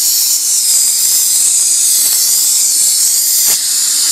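An airbrush hisses loudly and steadily at close range, a continuous high airy spray used on paint specks for a granite-look finish.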